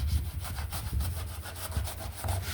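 Spray foam insulation being cut out of a tiny home's 2x4 wall framing, giving a steady rasping, sawing scrape with repeated strokes, close and fairly loud, with no voices.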